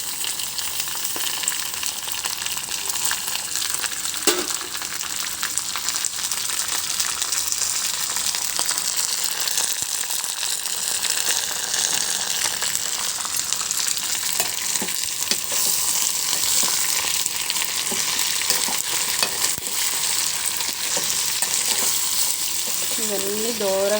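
Urad dal and chana dal fry in a pan with a steady, dense sizzle that runs the whole time, with occasional light stirring scrapes mixed in.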